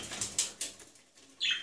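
A pet budgerigar flying indoors, its wings giving a few soft flapping bursts close by, then a brief brighter flutter at the end, with no talking.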